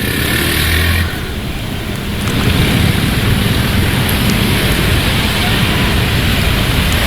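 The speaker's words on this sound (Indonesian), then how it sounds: "Kendaraan yang melintas didominasi oleh sepeda motor dan kendaraan roda 4" Heavy holiday return traffic on the arterial road in Karawang, West Java, mostly motorcycles and cars, in rain: a dense, loud, continuous roar of engines and wet road hiss with no pauses.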